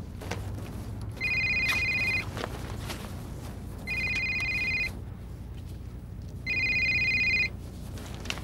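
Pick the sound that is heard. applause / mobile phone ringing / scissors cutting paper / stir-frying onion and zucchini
mobile phone ringing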